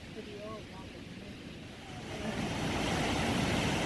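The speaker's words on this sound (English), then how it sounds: "There's the water thundering down the gorge" Water thundering down a deep gorge below the Pont Romain, a Roman bridge above Notre Dame de la Gorge, heard as a steady broadband roar that swells louder partway through, with wind noise and no voices.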